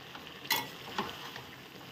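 Roasted spice mix goes into a frying jackfruit curry, with a soft steady sizzle broken by a couple of sharp scraping spoon strokes against the pan.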